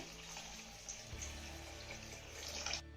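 Water runs in a steady, quiet stream into a pan of potato gravy, a soft continuous gush for a few seconds, alone and fairly faint.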